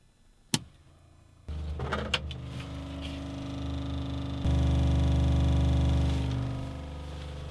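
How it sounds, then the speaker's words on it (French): An electric water pump switches on with a click and settles into a steady, loud motor hum that steps up in level partway through, droning continuously near the listener. "La pompe en marche."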